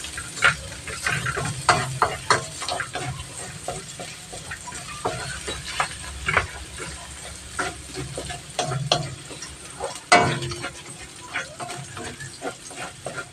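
Plenty of garlic sautéing in a pan for Filipino pork adobo, a continuous close sizzle broken by irregular scraping and clinking stir strokes, with one sharp clatter near the end.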